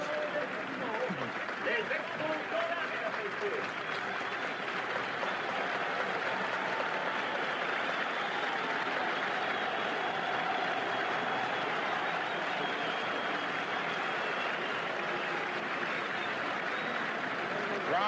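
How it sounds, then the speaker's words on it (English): A stadium crowd gives a standing ovation at the Montreal Expos' first home opener, a broad, sustained wash of applause and cheering that continues throughout under a commentator's voice. "That's really something, a standing ovation before the first ball is pitched out."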